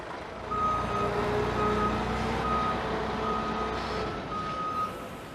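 A delivery lorry bringing loads of chicken litter from local farms reverses with a steady, repeating high beep over a continuous low engine rumble, fairly close and loud throughout.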